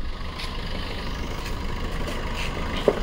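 A 2017 Maruti Swift VDI diesel engine idles steadily with an even low rumble and light clatter, heard up close and alone apart from a single small click near the end.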